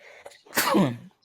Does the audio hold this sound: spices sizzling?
no